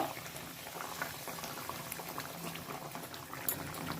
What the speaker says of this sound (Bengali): তরকারিটা আমার ফুটে উঠেছে